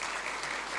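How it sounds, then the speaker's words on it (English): Steady applause for newly sworn-in officials at a government swearing-in ceremony, a dense, even wash of clapping filling the short moment without a break. "let's give them a round of applause."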